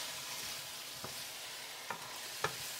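Vegetables stir-fried in a pan with a splash of light soy sauce, a steady close sizzle broken by three sharp scrapes or clacks of the stirring utensil near the end.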